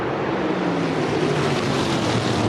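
Winged sprint cars race on track under green after a yellow-flag restart, their engines blending into a dense, continuous roar that stays loud and steady throughout, with no one talking.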